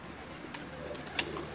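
A pigeon coos softly and low a few times against a quiet background, with no talking.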